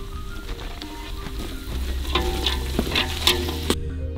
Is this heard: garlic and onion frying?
yes